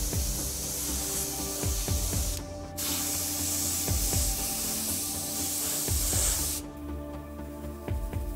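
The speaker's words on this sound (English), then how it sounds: "You can see how I'm really using the airbrush to render unevenly" An airbrush sprays paint onto a helmet in a steady close hiss that cuts off briefly twice as the trigger is released, with faint rubbing and handling sounds underneath.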